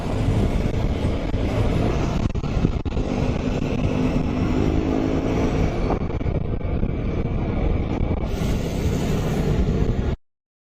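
A Vespa GTS scooter pulls away with the throttle wide open. A loud, rushing drone of engine and wind stays close and continuous, rises in pitch partway through, then cuts off abruptly.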